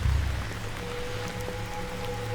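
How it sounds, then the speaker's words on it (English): Rain falling in the Northern Canada wilderness, a steady close hiss of drops with a brief low thump at the start and a faint tone threading through. "Rain."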